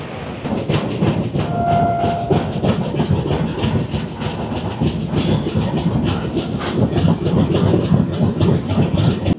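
Steady rail clatter and rumble from a running Samaleswari Express passenger train on its Howrah to Jagdalpur route in Odisha. The rhythmic wheel beats carry on for the whole stretch, and a brief horn sounds early on, with no voices.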